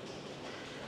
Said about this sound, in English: Oh, the train's just come in.